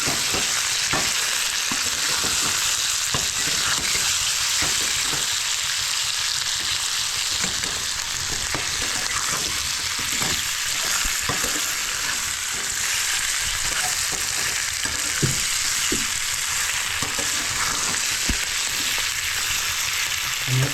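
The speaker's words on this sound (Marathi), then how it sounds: "मासे आपण मसाल्यामध्ये फ्राय करून घेतो जेणेकरून मासाला मसाला चांगल्या प्रकारे लागेल" Small net-caught fish fry in masala, a continuous dense sizzle and crackle running steadily and close, with scattered sharper pops over a long stretch.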